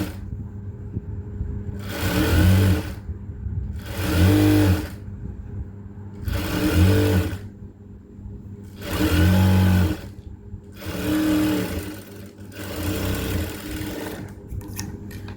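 A sewing machine stitches a folded blouse hem in repeated bursts of about a second each, whirring up and stopping six times with short quiet gaps between, close and loud with no talking.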